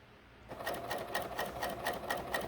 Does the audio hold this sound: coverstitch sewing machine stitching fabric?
yes